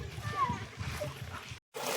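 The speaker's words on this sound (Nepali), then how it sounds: "मात्रै आवाज सुनेको छ पौडी खेलिरहेको।" Steady splashing and sloshing of people swimming in a cold mountain pool, heard at a distance with children's voices mixed in and a brief dropout near the end.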